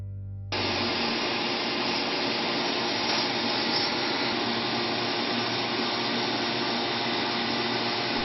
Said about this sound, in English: But the best way is to use a sandblaster, which we will do here.